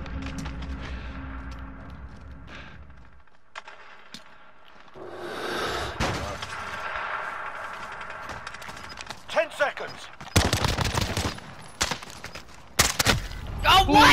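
Call of Duty gunfire crackles in bursts of sharp shots, loudest and densest toward the end, mixed with in-game noise and a player talking over it.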